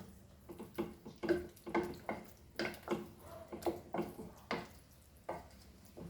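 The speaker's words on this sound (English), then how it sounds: "Fry it nicely, this masala." Goan cafreal masala frying in a pan for potato dal, with soft sizzling under repeated scraping and stirring strokes, a fairly steady rhythm of close utensil sounds.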